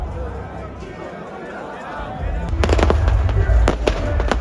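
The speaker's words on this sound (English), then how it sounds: "How they still got the fireworks going?" Fireworks bursting at a concert, a run of sharp cracks and pops that starts partway through over the low roar of a large crowd, loud and close.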